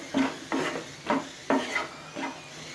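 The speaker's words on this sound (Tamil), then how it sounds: "போட்டுட்டு இது நல்லா ரோஸ்ட் ஆகிறது வரைக்கும் நல்லா இப்படி கலந்து விட்டுட்டே இருங்க" Spicy potato fry is stirred in a pan, with five rhythmic scraping strokes of the spoon against the pan at roughly half-second intervals, moderately loud and alone.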